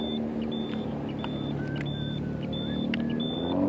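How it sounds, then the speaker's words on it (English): Road traffic streams past a noisy roadside spot in a steady, continuous rumble of cars, with thin, high beeping tones recurring at intervals over it and no voices. "we want you to see the traffic that just will stream in and out of this place."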